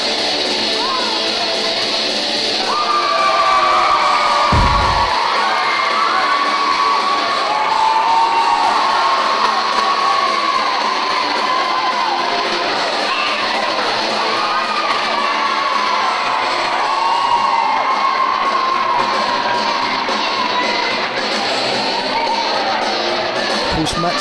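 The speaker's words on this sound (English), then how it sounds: "Combination of Dan Head and Max Voltage, always popular with the crowd, tonight no exception." A wrestling crowd cheers, shouts and whoops continuously throughout a tag team grudge match between The Kartel and Maximum Head. The loud, roaring arena noise swells at times, with a sharp thump near the start.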